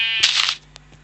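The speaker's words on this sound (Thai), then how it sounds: "แกะเกิดแล้วครับคุณผู้ชม" A Minecraft sheep bleats once after spawning in the video game, a bright, wavering cry that is loud and close and then drops away, followed by a faint click.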